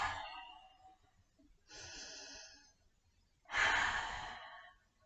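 Slow, audible breaths during a kids yoga session, three long sighing exhales spaced a couple of seconds apart, close and clear, with the last one the strongest.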